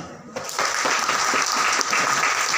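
Loud, dense applause from a large audience at a celebration event in Kathmandu, beginning abruptly and carrying on steadily, with a voice partly heard over the clapping.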